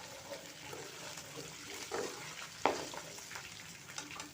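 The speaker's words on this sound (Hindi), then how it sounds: "2 बड़े टुकड़े बड़ी इलायची के। चंद सेकंड तक इनको फ्राई कर लेना है।" Black cardamom and whole cloves frying in a pan for jungli pulao, a soft, steady low sizzle with a couple of brief spoon clinks near the middle.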